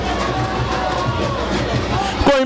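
A stadium crowd at an intermunicipal football match applauds and murmurs after a goalkeeper's save, a dense, steady roar of voices and clapping that continues for the whole stretch.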